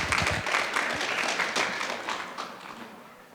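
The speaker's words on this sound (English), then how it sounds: "Let's give them a round of applause" An audience at a talk on plant-based diets claps as speakers come onto the stage, a moderate burst of many hands that is strongest at first and gradually thins and fades.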